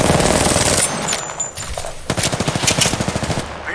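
Rapid automatic gunfire in a video game firefight, a loud, sustained burst of shots that pauses midway and then resumes as a steady rattling stream.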